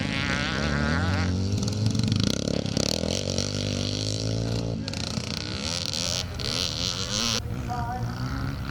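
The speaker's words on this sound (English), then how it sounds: "John Bateup on the 1958 650 Tripsa, the Triumph engine in the BSA frame" A 1958 650 cc Tripsa, a Triumph engine in a BSA frame, racing in a vintage motocross scramble, its loud engine shifting pitch as it revs and changes gear, with other bikes snarling alongside.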